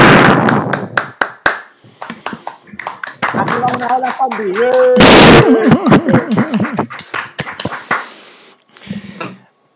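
Scattered hand claps from a small audience follow a university presentation of final video game projects, mixed with people talking and one loud burst.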